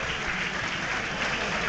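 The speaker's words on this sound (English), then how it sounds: "That applause is because you can hear because Toby Adebayo is only just making his way back toward the dugout now." A football crowd at a Notts County FA Cup match against Crawley Town applauds in a broad, steady wash of clapping, heard from a distance through stadium ambience with no break.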